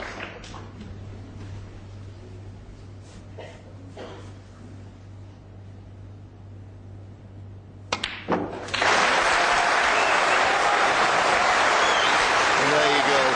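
Audience applause breaks out at a snooker match after a century break, in a 2008 World Championship frame between Ronnie O'Sullivan and Hendry. Loud, sustained clapping comes in suddenly after quiet commentary and a few ball clicks.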